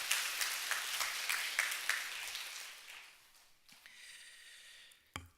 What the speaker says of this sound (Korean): 목사님 위해서 여러분들 박수 한번 하세요